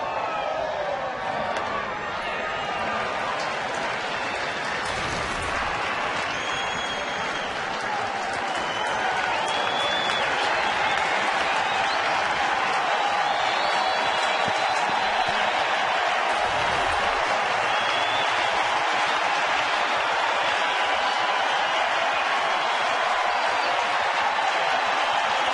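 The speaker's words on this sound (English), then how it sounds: "what's become a noisy crowd" A noisy baseball crowd at a Rangers game in Texas, cheering and applauding in a dense, sustained roar that holds steady and swells slightly, with no talking over it.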